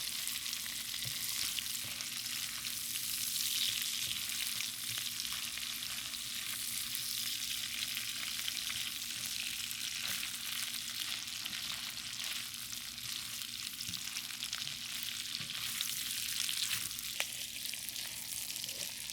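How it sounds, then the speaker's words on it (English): Onions fry in a pan alongside pork stir-fry meat, a steady close sizzle and crackle continuing throughout with occasional stirring clicks and no talking. "you can use the other side for frying up onions"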